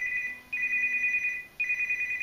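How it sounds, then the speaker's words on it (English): A telephone rings in repeated electronic bursts, two long trilling rings separated by a short gap, loud and close with no voices. "oh, damn phone."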